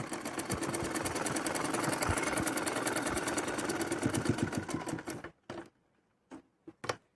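A sewing machine runs steadily, stitching down the folded waistband of a palazzo, a fast continuous mechanical rattle for about five seconds, then stops, followed by a few short isolated clicks and bursts.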